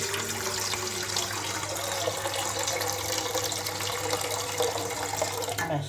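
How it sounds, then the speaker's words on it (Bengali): Water poured into a pot set on a gas stove for steaming idli, a steady rushing flow for about six seconds that tails off at the end, close and continuous. "এবার দিয়ে দিচ্ছি জল"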